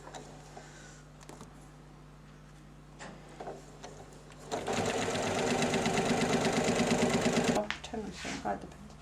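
A sewing machine stitches the joining seam between quilt rows in one steady, rapid burst of about three seconds, close and clear, with quiet room noise and soft handling before and after.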